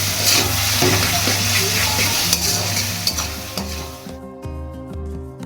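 Ginger-garlic spice paste with a pinch of salt fries in oil for a dhania chicken recipe, a loud continuous sizzle under repeated stirring and scraping that drops away sharply near the end.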